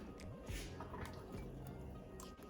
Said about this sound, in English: I'm just going to put in the 1 sweet potato that I diced up